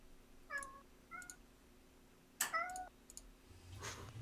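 A pet cat named Ollie meows several times, short clear calls spaced across the clip, with one louder drawn-out meow in the middle and a low rumbling noise near the end.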